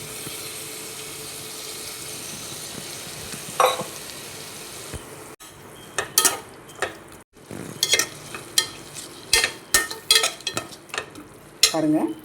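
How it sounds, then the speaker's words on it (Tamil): Tomato, mint and coriander fry in a pressure cooker pot for paneer biryani: a soft sizzle underlies a run of sharp, irregular scrapes and knocks of a spoon stirring against the pan, close and without voices. "இப்போ நம்ம இதில் வந்து புதினா மல்லி, பிரியாணிக்கு தேவையான அளவு புதினா மல்லி நான் ஆட் பண்ணிக்கிறேன்"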